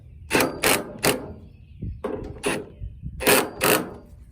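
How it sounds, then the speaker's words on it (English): A cordless drill in screwing mode whirs in short bursts, three quick ones, a pause, then a few more, each bolt driven into a truck tailgate handle with a brief mechanical buzz, close and fairly loud. "I changed my drill back to the screwing mode so I wouldn't over tighten them."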